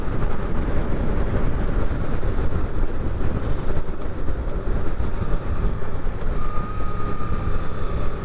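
A 2024 Suzuki GSX-8R motorcycle engine runs as a steady, loud, continuous roar with road and wind rush, holding even throughout with no talking.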